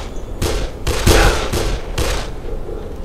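Gunfire in the zombie video game Dead Island, a few loud close shots in quick succession with sharp cracks and a heavier burst in the middle, no talking.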